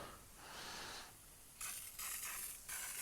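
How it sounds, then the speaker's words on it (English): Faint bursts of hissing spray from an aerosol can of decarbonising foam on a Mercedes Vito engine, several short and long blasts with brief pauses between them, close and quiet. "basically you spray all this goo over here"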